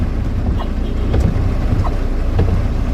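A boat motor drones steadily on floodwater, a loud, low rumble close by with wind buffeting the microphone and a few faint clicks over it.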